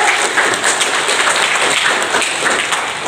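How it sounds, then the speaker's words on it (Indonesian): Audience applause at a sign-language interpreter training session, a dense, steady patter of many hands clapping at close range that holds at an even level for the whole stretch, with no voices. "pokoknya ya aplaus dulu ya buat semuanya ya"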